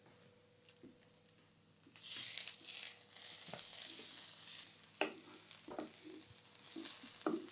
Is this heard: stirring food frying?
yes